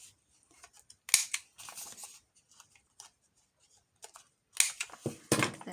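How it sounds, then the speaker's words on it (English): Scissors trimming old book pages and clipping their corners, a few sharp close snips in short bursts separated by quiet pauses. "Trim it, I'll clip the corners on this."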